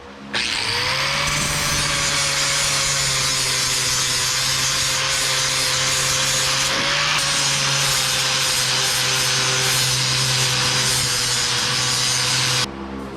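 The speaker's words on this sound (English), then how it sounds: "Let's grind it somewhat smooth." Angle grinder working a weld seam smooth on a car fender, a steady loud whining grind holding for about twelve seconds with a slight dip in the middle.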